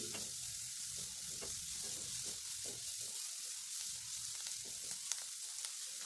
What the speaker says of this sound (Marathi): थोडंसं तेल घालूयात कांदा आपल्याला गुलाबी रंगावर व्यवस्थित परतून घ्यायचा आहे